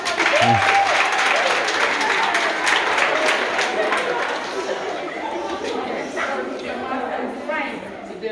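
A school assembly applauds a student, clapping steadily for several seconds, with chatter mixed in as the applause gradually softens.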